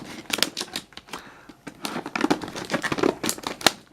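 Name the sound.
unwrapping plastic wrap from a tool package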